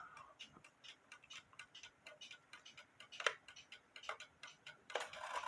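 A cuckoo clock with a Regula 70-1 movement ticking in a quiet room, a steady, close tick-tock with a few louder clicks mixed in, and no talking.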